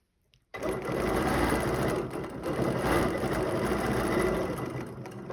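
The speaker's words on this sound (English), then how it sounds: "I'm going to stitch to my next angled mark." A sewing machine runs steadily at speed, stitching quilted fabric along an oval ruler for a centre design, a close, continuous whirring rattle that starts abruptly after a moment of quiet and carries on without talk.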